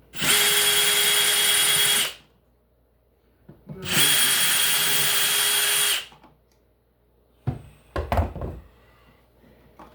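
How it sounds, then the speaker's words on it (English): A power drill unscrews a light switch screw in two steady whirring bursts of about two seconds each, close up, followed by a few knocks and clunks of handling. "I'm going to unscrew it and straighten it"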